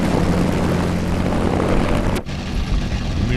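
Propeller aircraft engine drone from a plane in a video game, a steady loud hum that drops out briefly with a sharp click midway before resuming.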